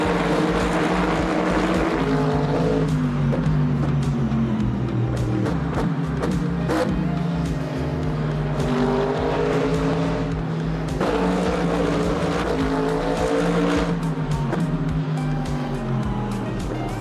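Porsche race car at full throttle during a race, loud continuous engine roar with rising and falling pitch as it shifts gears, close and dominant.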